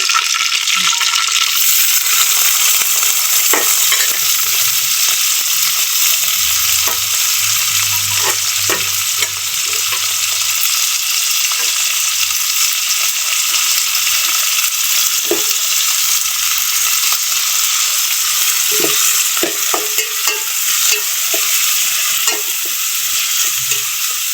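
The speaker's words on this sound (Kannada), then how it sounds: "ಈಗ ಕಾದಿದೆ ಎಣ್ಣೆ ಹಾಕೋಣ" Hot oil sizzling and frying in a pan while mutton saaru khushka is cooked, a loud steady hiss throughout with scattered stirring clicks and scrapes of a utensil against the pan.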